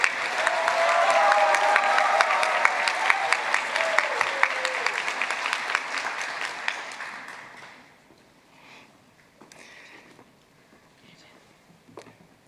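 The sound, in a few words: applause at commencement ceremony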